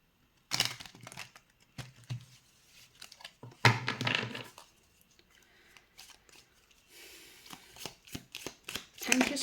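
Tarot cards are shuffled by hand in several brisk bursts of riffling and slapping, close to the listener, with short pauses between bursts.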